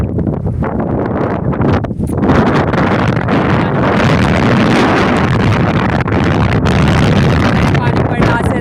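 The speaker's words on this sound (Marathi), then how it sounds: "इथे वारा लय येतो म्हणून आवाज नाही येत असेल" Strong wind buffets the microphone in a loud, continuous roar during a rainstorm at a village wedding, steady throughout with no clear speech.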